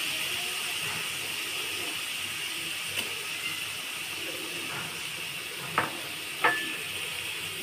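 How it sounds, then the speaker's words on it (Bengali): Spice paste with yogurt and chopped tomato frying for a hotel-style aloo dum, a steady soft sizzle running throughout with a few sharp clicks of a spoon against the pan near the end. "টমেটো কুচি দিয়ে আমি ভালোভাবে ভেজে নিব"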